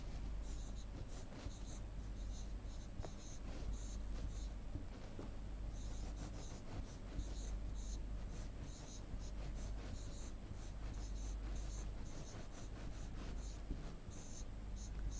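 A pen writes numbers by hand on paper for a class 4 addition lesson, a faint, continuous scratching over a low hum, with a quiet voice now and then.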